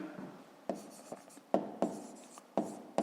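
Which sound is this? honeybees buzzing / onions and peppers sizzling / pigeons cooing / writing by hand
writing by hand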